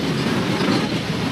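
Ooty toy train running through mountain tunnels, a steady close rumble of wheels on rails with faint clickety-clack, enclosed and continuous throughout.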